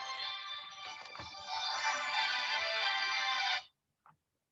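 A phone ringtone trills loudly and steadily for several seconds, a bright electronic melody that cuts off abruptly, followed by a faint brief click.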